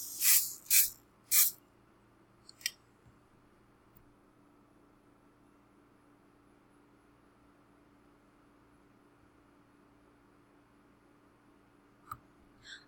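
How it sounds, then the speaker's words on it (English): Hairspray used as fixative over a charcoal drawing goes on in three short, sharp aerosol hisses close by, followed by near silence with a couple of faint clicks. "I'm going to layer it with hairspray"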